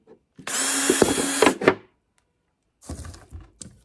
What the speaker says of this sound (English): Now I'm actually going to drill in the middle and cut around